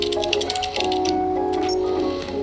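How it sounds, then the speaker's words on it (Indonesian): Keyboard typing inside the video game Stray, a quick run of light clacking keystrokes over a steady tonal game soundtrack, fairly close and clear. "Yuh, lah, gua ngetik nih."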